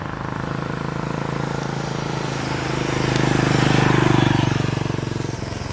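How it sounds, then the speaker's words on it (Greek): An air-cooled single-cylinder 400cc Benelli Imperiale 400 motorcycle engine thumps steadily at idle with even low pulses, swelling a little louder midway before settling back. "θα ακούτε τον ήχο του κινητήρα, μονοκύλινδρος εδώ πέρα, 400 κυβικά."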